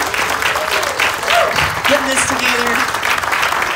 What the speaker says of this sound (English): Give him a round of applause for